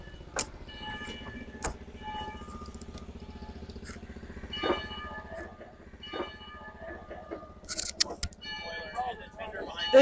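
Narrow gauge railroad train at a museum, a steady rhythmic mechanical clatter and rumble with sharp metallic clanks and ringing tones throughout, while people talk nearby.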